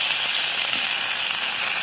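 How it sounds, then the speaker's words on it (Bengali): Potato pieces fry in hot oil in a pan, giving a steady, loud, close sizzle that hisses evenly throughout. "এই তেলে আলুটা আমি একটু লাল করে নিচ্ছি"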